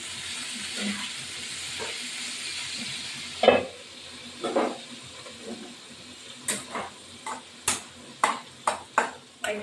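Pointed gourd fries in a pan with a soft steady sizzle, broken by a series of close, sharp scraping stirs that grow more frequent toward the end.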